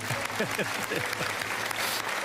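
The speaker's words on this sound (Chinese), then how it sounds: "那给他掌声。" A studio audience applauds in a steady, dense burst of clapping that fills the room, while a voice speaks briefly over the start.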